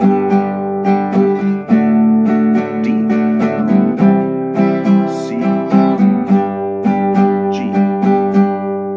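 Acoustic guitar strums a sequence of chords in a steady rhythm, close and fairly loud, with no voices.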